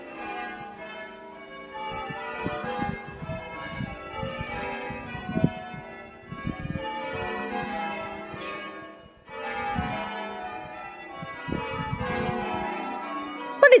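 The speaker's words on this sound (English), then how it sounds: "So dare say that the bells will become less noisy, but may still be ringing in your head." Church bells pealing in Rye, England, a dense, continuous wash of overlapping rung tones at moderate distance, with brief dips between changes and a little street noise underneath.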